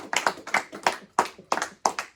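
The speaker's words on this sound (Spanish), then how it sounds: "Denle un aplauso a Cristo" A church congregation clapping during a sermon, heard as separate bursts of sharp, close claps in an uneven rhythm with short gaps between them.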